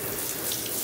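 Tap water runs steadily over a hydro-dipped camo gun stock during rinsing, a brief close hiss of flowing water with no voices.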